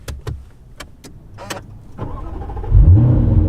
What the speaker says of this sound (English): The F-Type SVR does rev a little bit when you start it up. It almost goes vroom.